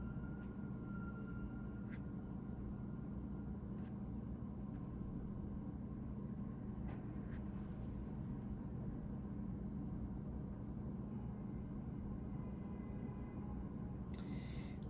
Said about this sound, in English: traffic is starting to pick up again